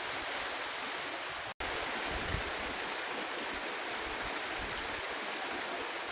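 Heavy rain pouring down on a rainy day in Laos, a dense, continuous hiss that stays loud and even throughout, with a brief dropout early on.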